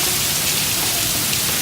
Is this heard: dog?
no